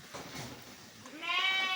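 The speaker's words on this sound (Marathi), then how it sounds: "तर असं हे शेळीपालन आपण म्हणजे बोर शेळीपालन दोन हजार एकवीसपासून करतो" African Boer goats on a farm bleat, a single drawn-out, wavering call rising near the end over low background noise, fairly close.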